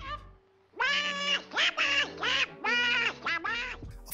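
A performer does the squawking, garbled Donald Duck voice for a Disney animated film in a recording session, making loud close quacking phrases in quick bursts that imitate a duck.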